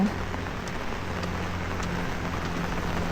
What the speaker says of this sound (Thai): วันนี้ฝนตก